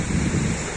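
Sea waves washing onto a stony beach on the Croatian coast, a steady broadband wash of surf with wind across the microphone, continuous and moderately loud with no voices.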